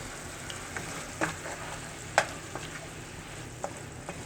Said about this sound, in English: as you see, the meat didn't take long to brown